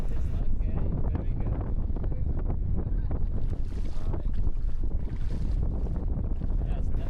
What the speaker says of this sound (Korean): 바람이 얼마나 강한지 느껴지시나요?